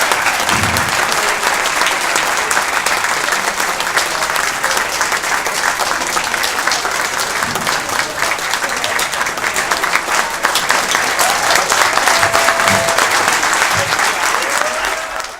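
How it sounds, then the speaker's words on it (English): A graduation audience at Mesivta of Waterbury gives a long, sustained round of applause, dense and steady throughout with a brief swell near the end, with some voices faintly mixed in. "So let's just all give a round of applause for Rebbe."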